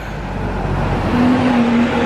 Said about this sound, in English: subject to this little wagon going past me